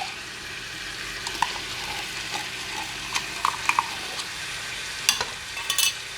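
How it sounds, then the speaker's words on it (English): Stirring a pot of chili with tomato paste, soft scraping and wet sloshing with scattered clinks of the spoon against the pot, close and moderately quiet. "Just stir it up a little."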